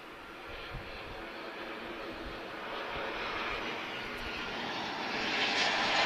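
A Boeing 737-8 jet airliner at Lisbon Airport gives a steady, moderately distant engine roar that slowly builds in loudness over several seconds.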